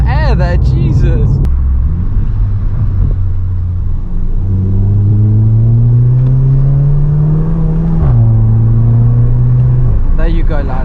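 A Volkswagen Scirocco with a DSG gearbox drives along, its engine droning and climbing steadily in pitch through a long pull before a shift drops the tone, with exhaust noise throughout and brief talk inside the car at the start.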